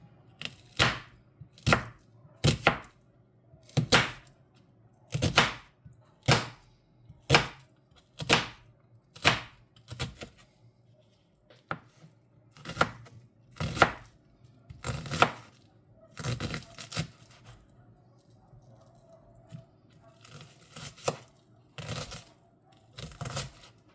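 A knife chops vegetables on a cutting board for tomato cream soup, giving crisp close thuds in a steady rhythm of about two per second with short pauses between runs.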